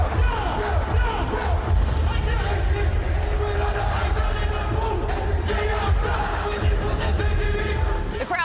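Dense concert crowd noise from a show in Houston, a steady roar of cheering and babble with scattered whoops, loud and continuous throughout, with music faintly underneath.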